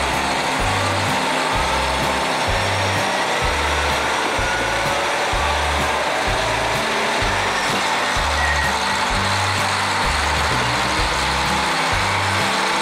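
A KiHa 54 diesel railcar on a local train rumbles with a loud, steady engine drone under a broad, constant hiss of running noise, with a regular low clatter pulsing from the wheels throughout.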